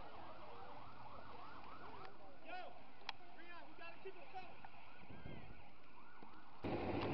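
A fire truck's siren wails in repeated rising and falling sweeps at a county fair, moderately distant and steady, with crowd voices and fairground noise around it and a sudden loud thump near the end.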